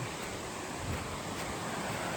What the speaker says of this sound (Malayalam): ഒരു അരുവി എന്ന് പറയാൻ പറ്റത്തില്ല ഒരു പുഴ തന്നെയാണ് സത്യത്തിൽ